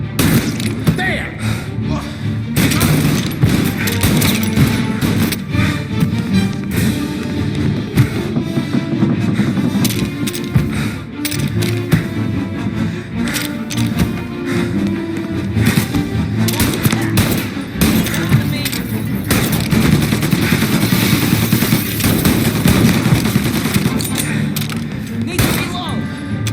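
Gunfire from the Mafia Definitive Edition video game rattles loudly and almost without pause, with dense bursts, booms and breaking sounds, while voices shout over the chaotic firefight.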